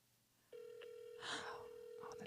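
An outgoing phone call to a customer support line rings with a steady, sustained tone that starts abruptly and holds. People talk over it partway through.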